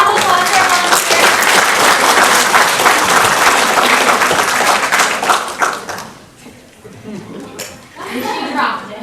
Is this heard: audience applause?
yes